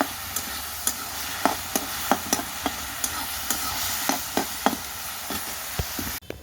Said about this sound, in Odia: ମୋର ଏ ଶାଗଟା ଭାଜୁଛି